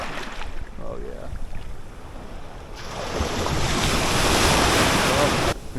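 Ocean surf breaks on a spring beach while anglers fish for striped bass, a rough roaring wash of whitewater that swells louder midway, with gusty wind buffeting the microphone.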